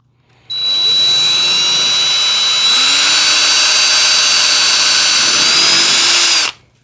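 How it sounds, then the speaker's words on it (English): A power drill bores holes through the plastic hull of an Old Town Ocean Kayak Malibu PDL to mount a fish finder, one steady, loud, continuous whine lasting about six seconds. "We end up drilling some holes."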